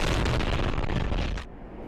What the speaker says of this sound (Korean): 달리는 차량 앞으로 큰 폭발음과 함께 불길이 치솟습니다.